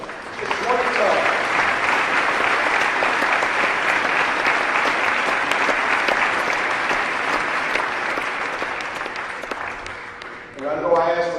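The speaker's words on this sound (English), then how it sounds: "if we could get everybody to just clap, just 20 times" Crowd at a high school boys basketball game clapping in unison for a tribute, loud and sustained for about ten seconds, then fading out as a voice begins speaking.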